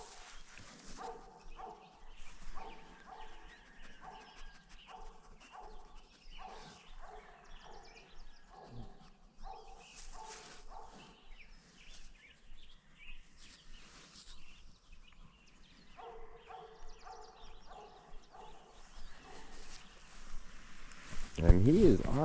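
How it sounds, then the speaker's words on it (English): A tracking dog sniffs around with soft, repeated snuffling bursts and scattered barks while a person talks nearby, and a louder burst of noise comes at the very end. "He's sniffing something."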